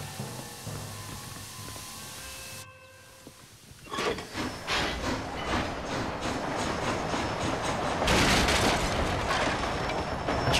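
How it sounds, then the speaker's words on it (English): A train in the Red Dead Redemption: Undead Nightmare video game lets out a hiss of steam, then rolls along the tracks with a loud, steady clatter that swells toward the end; no talking. "Got the train all to myself."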